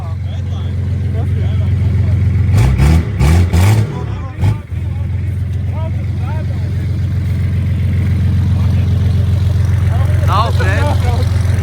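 An old winter-beater car engine runs with a loud steady low drone and rises briefly in a few revs, while people talk over it.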